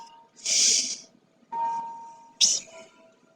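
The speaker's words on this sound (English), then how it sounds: "It's a grandfather clock going off." A grandfather clock striking the hour indoors, with three separate resonant chime tones spaced about a second apart, each ringing and fading, and no talk.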